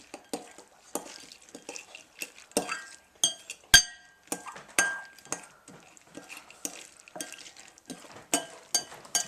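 A nut mixture for an ancient Roman dish is stirred in a bowl, with repeated scraping strokes and sharp clinks of a utensil against the dish in an uneven rhythm, close and clear.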